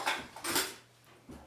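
Milkweed noodles with toasted sesame seeds are tossed in a dish with a utensil, two or three soft, close scraping clinks in quick succession.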